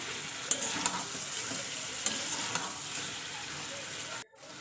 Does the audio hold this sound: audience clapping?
no